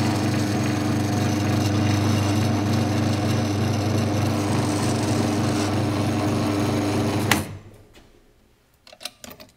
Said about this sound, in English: Start the machine, drill through.